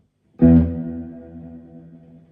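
A single strummed electric guitar chord rings out through a Carl Martin Headroom Mini reverb pedal, with a sharp attack that decays slowly into a smooth, lingering wash that lasts almost two seconds.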